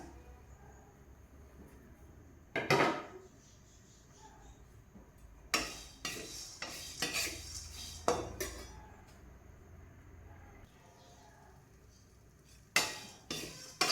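Rice flour and roasted gram dry-roasting in a pan, heard as scattered scrapes and clinks of a spoon against metal. Quiet gaps separate the bursts of stirring, which stay faint and close.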